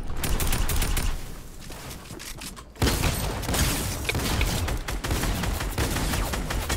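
Dense bursts of SCAR assault rifle fire in a Fortnite battle royale match rattle on almost without pause, loud and close, over a constant wash of game noise.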